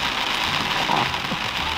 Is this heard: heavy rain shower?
yes